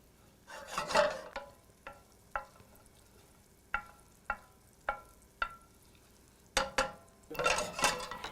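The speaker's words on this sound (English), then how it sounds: "let's melt our butter in a nice large, not nonstick" Butter melting in a large stainless, not nonstick, skillet for shrimp scampi: soft sizzling with a series of sharp, separate scrapes and taps of a utensil against the pan, close and fairly quiet, no talking.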